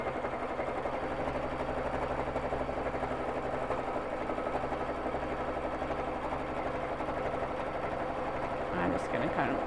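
A Babylock Jazz II sewing machine free-motion quilts with Aurifil thread, a fast continuous motor hum with rapid needle chatter, close and steady throughout, with a brief clunk at the end.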